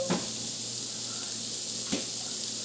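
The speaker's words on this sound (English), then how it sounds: "now this is all cooking, simmering together, stirring in the garlic" Garlic sizzles and simmers in a jambalaya pot, a low steady frying hiss with two brief stirring scrapes, close by and with no talk.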